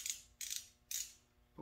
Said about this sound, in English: it'll ratchet any direction that you turn it